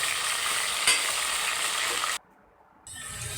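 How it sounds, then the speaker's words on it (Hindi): Chicken is stirred with a spoon in a hot pan, a continuous crackling sizzle with one sharp scrape of the spoon near the start. A short silent gap breaks it before the sizzling resumes. "अब आप इसमें चिकन डाल दें और ख्याल रखना है नीचे ना लगे। अच्छे से उसमें चम्मच हिलाना है।"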